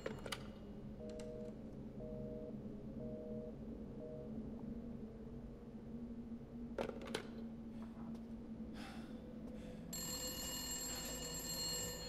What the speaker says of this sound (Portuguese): Tocou o telefone, volta.